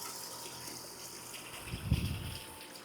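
Dirty water gushing out of a pool filter during a filter change, a faint, steady rushing flow that swells into a heavier splash near the end.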